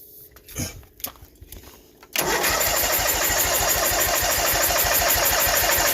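Old tractor engine cranking and starting: a few uneven starter turns and knocks, then the engine catches abruptly and settles into a loud, steady, chugging run close by.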